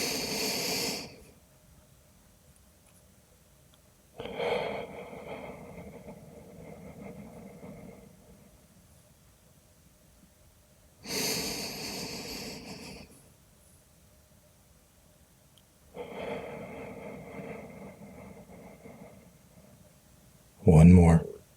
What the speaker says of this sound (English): Let's breathe for a second